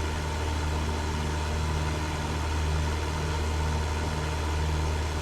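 A simulated Cessna 172 piston engine droning at steady power through a slow climb in MSFS 2024, a continuous loud low hum with a faint vibrating buzz and no speech over it.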